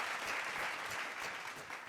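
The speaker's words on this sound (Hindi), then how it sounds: "एक बार फिर जोरदार तालियों की गूंज के साथ स्वागत करें हमारे नए एलडीडी गैलियंस का" Applause from a crowd at a national achievement day celebration welcoming new honorees, a faint, distant-sounding wash of steady clapping with no clear voices.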